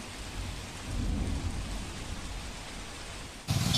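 Heavy monsoon rain falls steadily in Gir Somnath, a dense close hiss of drops with low rumbling underneath and a sharper burst of splashing at the end.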